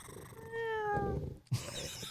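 A person imitates a cat with a voiced, meow-like call that rises and trails off, followed by a short burst of breathy, rumbling vocal sound.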